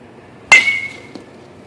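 Single crack of a Rawlings 5150 BESR aluminium baseball bat hitting a ball, a loud bright ping that rings briefly, followed by a faint knock a moment later.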